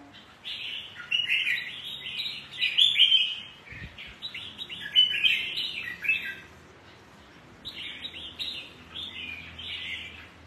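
Songbirds for sale at a bird market in Quảng Trị, Vietnam, chirp in bright, close bursts of rapid notes that come in several separate rounds with short pauses between them.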